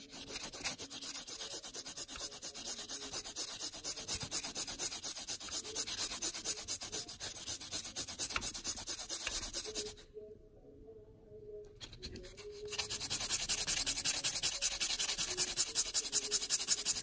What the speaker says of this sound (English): the deburring tool does a lot of the work for me